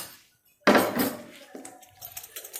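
Gram flour mixed with rice flour is sifted through a metal sieve for beguni batter, a sudden clatter and rattle of metal against a bowl followed by lighter scattered taps, close and alone.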